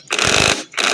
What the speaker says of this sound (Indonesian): Lalu kita kencangkan, kita ambil impact dulu ya teman-teman